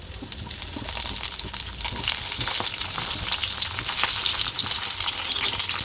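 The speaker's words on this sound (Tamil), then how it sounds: "இந்த எண்ணெயிலே கத்திரிக்காவை நல்லா வதக்கி விட்டுருவோம்." Brinjal (eggplant) pieces sizzle and crackle steadily in hot oil in a pan, a continuous close frying hiss with occasional stirring scrapes and no talk.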